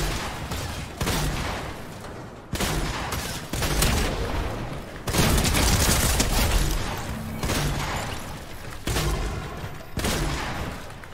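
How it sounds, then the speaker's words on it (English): Heavy shotgun blasts fire repeatedly in a Fortnite-style battle royale match, loud sharp booms at uneven intervals of roughly one to two seconds, dominating the scene with no talk. "Why are you still shooting?"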